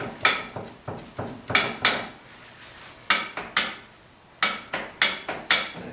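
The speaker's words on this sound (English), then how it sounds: "You can hear it when the arm gets down. Kind of, it's hitting hard." A Racine power hacksaw runs with its arm slamming down hard on each stroke, producing loud, close, repeated metallic knocks in uneven clusters.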